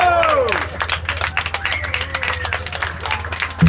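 An audience at a live music venue in Goa claps and cheers, a dense patter of applause that starts strong and tapers while voices mix in.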